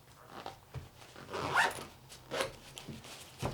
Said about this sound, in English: Just zips up like that and you're good to go.